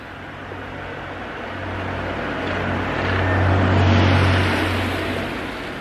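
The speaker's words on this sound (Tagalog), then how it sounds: "Sasakyan pa kanina." A car passes by outdoors, its broad rumbling hiss rising slowly, peaking near the end, then fading away.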